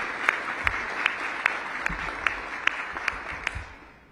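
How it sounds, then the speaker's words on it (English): Sparse, scattered clapping from a small group, with sharp individual claps spaced out rather than a full roar, fading at the end. "Let's give them a round of applause for supporting him."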